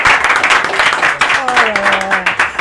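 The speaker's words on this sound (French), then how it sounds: "Allez, on l'applaudit très fort." Loud audience applause and clapping fill the space throughout, with a voice speaking over the crowd partway through.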